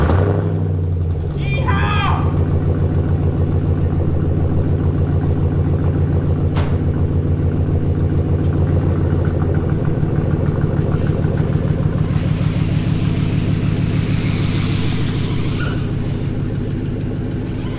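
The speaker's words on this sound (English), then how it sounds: "Listen to some good old fashioned American hot rod cold startup." A good old-fashioned American hot rod engine cold-starts and settles into a loud, steady, lumpy idle, its deep rumble continuing unbroken from start to finish.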